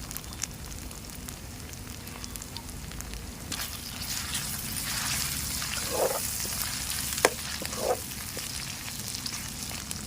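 Green chillies and turmeric sizzling in hot oil in a pan, a steady loud hiss of frying with a few stirring clatters partway through.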